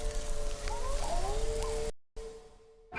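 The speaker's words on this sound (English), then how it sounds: "forest." Forest ambience from a free sound plugin: a steady hiss of rain or wind with a few faint bird chirps, then a cut to silence before a quieter ambient bed returns.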